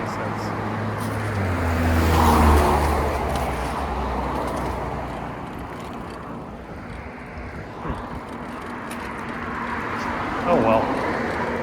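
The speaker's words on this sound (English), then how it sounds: "A lot of traffic here now." Road traffic passes during a ride heading west, a broad wash of engines and tyre roar that rises and fades as vehicles go by, with one stronger pass early on and a steady background rumble.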